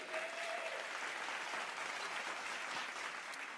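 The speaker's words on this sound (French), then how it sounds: "Est-ce qu'on peut applaudir pour les deux, s'il vous plaît?" A studio audience at a talent contest applauds two contestants, steady continuous clapping at moderate distance, fairly faint and unbroken throughout.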